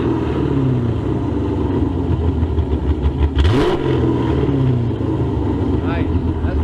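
A Hemi V8 car with a Hellcat OEM catback and American Racing long tube headers revs up sharply once and settles back to a rumbling idle, loud and close, with people talking over it.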